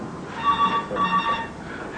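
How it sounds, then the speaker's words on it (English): Telephone ringing in two bursts, the second following a brief pause, with a bright repeating electronic bell tone at moderate volume and no talk over it. "That'll be the phone."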